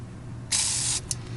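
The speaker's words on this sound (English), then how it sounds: "a little bit of furniture polish. Just a little bit of that in there." A short hissing burst of furniture polish sprayed onto the rubber gasket of a Miele S558 canister vacuum, about half a second long and close, then a brief second puff.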